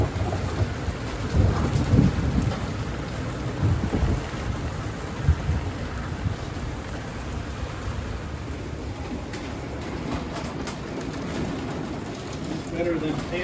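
A thunderstorm at a campground at Oshkosh during AirVenture, with steady rain pattering on a surface and low rumbles of thunder rolling through, heard from a sheltered spot, with a voice talking faintly beneath.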